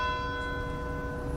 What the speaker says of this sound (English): the 130-year-old courthouse bell tolled Wednesday in memory of hometown hero Dolly Parton